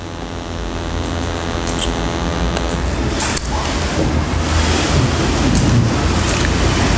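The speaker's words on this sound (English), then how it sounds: "I did a video work about the wave, about the movement of the water." Ocean waves rolling and washing onto shore in an artist's video piece about the movement of water, a loud continuous roar with gusty wind noise and a slowly building surge, no voices.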